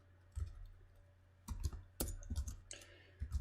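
Clicks and taps from a computer keyboard while a script is typed, arriving in short clustered bursts with pauses between them, faint and close against a low steady hum.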